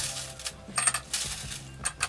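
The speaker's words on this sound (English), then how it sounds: "The first thing we're gonna do is add some ice." Ice cubes dropped into a cocktail glass for a vodka and blue Curacao drink, giving a quick series of bright clinks and rattles, close and crisp, with no talking.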